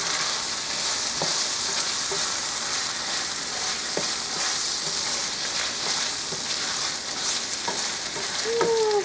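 A potato filling mixture sizzling steadily in a hot pan, a dense, even crackle of frying close by, with soft scrapes and taps of stirring breaking through now and then and no talk.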